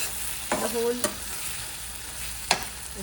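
Tomatoes, onions and garlic sizzle and fry steadily in a pan over medium heat, with a few sharp scrapes and clinks of a utensil stirring.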